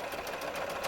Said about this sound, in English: I'm going to sew across the top.